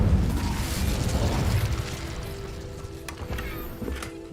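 A fiery spell going off in Hogwarts Legacy: a loud roaring burst that trails into a crackling, rumbling decay, followed by a few sharp clicking and mechanical ticks as it fades.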